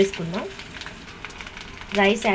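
Ground pepper powder is mixed into egg rice frying in a pan, a low steady sizzle with faint stirring. A person speaks over it at the start and the end.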